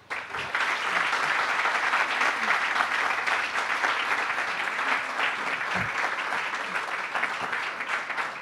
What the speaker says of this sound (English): Please join me in offering a round of applause for our gracious host.